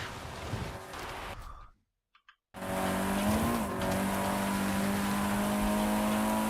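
A car engine races in Forza Horizon 5, loud revving and tire noise cutting to near silence for a moment, then a sustained high engine whine that rises and holds.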